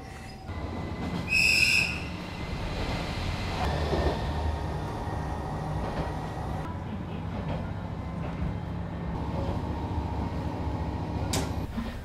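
A local train in Gujo Hachiman rumbles along steadily from inside the carriage, with a brief high wheel squeal early on and faint clunks and rattles over the continuous low rolling noise.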